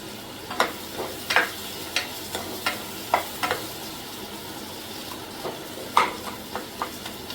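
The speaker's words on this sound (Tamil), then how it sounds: "இதில் நான் சின்ன தக்காளினால ரெண்டு தக்காளி போட்டுருக்கேன் நல்லா வதக்கிக்கோங்க" Small tomatoes are stirred and sautéed in a pan for a Tamil chicken kulambu, giving scattered scraping and stirring clicks over a faint background sizzle, with no one speaking.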